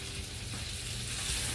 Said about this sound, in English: you can see it sizzling, I'm just gonna take these lobsters